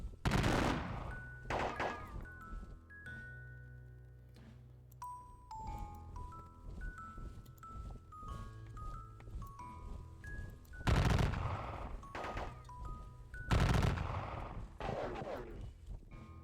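Musket volleys ring out in a turn-based Battle of Gettysburg wargame: sharp crackling bursts of massed gunfire, spaced seconds apart, with soft electronic tones and chimes from the game between them.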